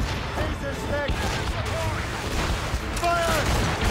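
Naval cannon fire from sailing ships in Assassin's Creed Rogue, with continuous booming and rumbling broadsides mixed with shouting voices and battle noise over several seconds.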